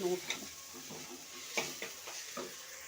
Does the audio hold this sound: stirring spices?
yes